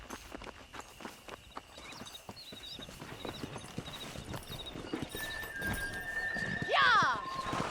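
Horse hooves clip-clop steadily at a walk, then a horse whinnies loudly near the end, in the Red Dead Redemption video game, with faint background ambience throughout.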